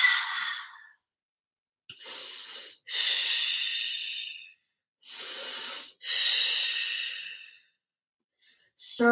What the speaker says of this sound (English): Breathe a lot.